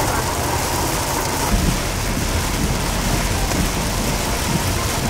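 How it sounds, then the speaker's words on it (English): Heavy rain pours steadily outdoors by a pool, a dense, loud, continuous hiss of drops striking surfaces with no break throughout. "it is raining so hard"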